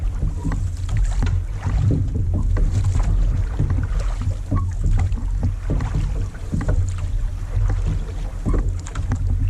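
Water laps and splashes steadily against a drift boat on an Alaskan river, with a low rumble of wind across the microphone throughout.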